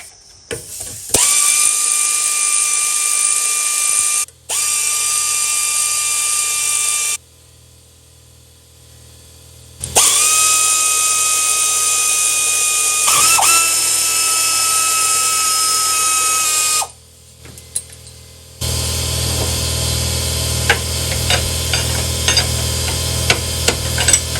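A hand ratchet with an 11 mm socket and swivel works on transmission bolts of a Chevy Suburban/Tahoe 4x4 with an LS motor, giving loud, sustained grinding runs broken by short pauses, then a final stretch of rapid clicking.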